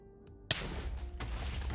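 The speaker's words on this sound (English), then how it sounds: "TNT path, explode." TNT blows up in Minecraft, a sudden loud blast followed by a sustained rumbling roar and a second burst, close and alone.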